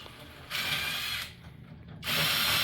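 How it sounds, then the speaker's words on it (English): A ratchet loosening skid plate bolts on a Kawasaki KRX, with two bursts of quick clicking ratcheting separated by a brief pause, up close and alone. "So he's removing all the bolts that you can't see because it's too dark down there."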